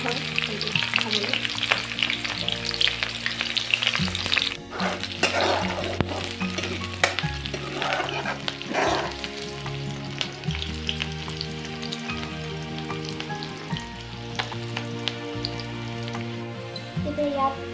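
Chopped onion frying in hot oil at the start of a home-style goat curry, a steady dense sizzle throughout with occasional stirring scrapes and faint background music-like tones.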